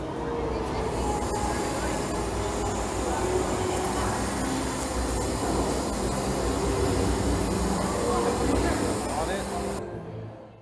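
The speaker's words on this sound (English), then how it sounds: "Here's the Hogwarts train" Rumbling ride on the Hogwarts train attraction at Universal Studios Florida, a steady loud rail-like roar with clatter and crowd voices throughout, cutting off abruptly near the end.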